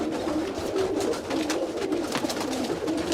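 Pigeons coo steadily in a loft, the auction bird among them; soft, repeated low coos roll on over a busy background with no speech.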